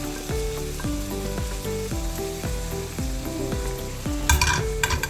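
Cooked mutton pieces on the bone being stirred in a pan, a rhythmic series of scraping, clattering spoon strokes over a continuous sizzle, with a louder clatter near the end.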